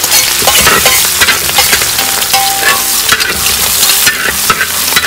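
Chopped ginger, green chili and garlic hit hot oil in a pan for a pickle, giving a loud, bright, continuous sizzle with crackling bursts and stirring scrapes, close up and without talk.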